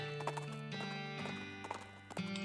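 Horse hooves clip-clopping in the West of Loathing video game, a quiet series of rhythmic hoof clops set over a soft, sustained musical background.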